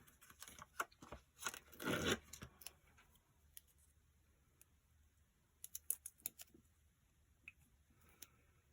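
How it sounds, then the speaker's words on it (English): Foam tape being pulled from its roll and peeled during a card-making craft session, heard as a burst of crackly tearing noise followed by scattered light ticks and taps from handling. "I'm going to use the foam tape again for this"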